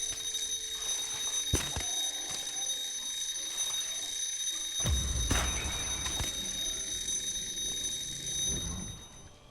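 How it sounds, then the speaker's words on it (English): A timer alarm rings steadily throughout, a continuous high electronic beeping tone near and fairly loud, with a few thumps and rustling game sounds layered beneath partway through. "there goes our timer"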